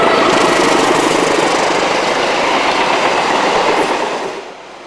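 A train rolls through a railway station, a loud, continuous rumble with rhythmic clattering of wheels and cars, holding steady before easing off near the end.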